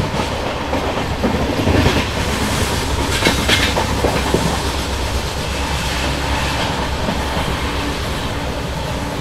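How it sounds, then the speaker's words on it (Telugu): Pinakini SF Express train arriving and passing close by, a loud, continuous roar of wheels on rails with steady clickety-clack over joints and a brief rise in rattling, no voices. "కానీ ఇప్పుడు ట్రైన్ వచ్చేసింది"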